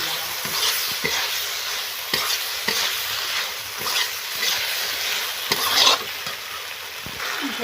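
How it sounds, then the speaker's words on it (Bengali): Eggplant and potatoes frying in a pan under steady stirring, a continuous close sizzle punctuated by regular scraping knocks of the spatula against the pan. "এবার নাড়াচাড়া করে নেব।"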